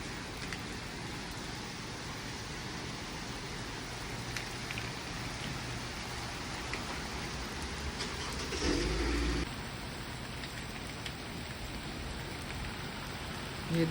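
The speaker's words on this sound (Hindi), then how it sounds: "मैं आप खामोश हो जाऊँगी ताकि आप लोग बारिश की आवाज़ सुने।" Heavy rain falling outside a veranda, a steady dense hiss of drops on surfaces that stays even and continuous throughout, with a brief louder patch near the end and no talking.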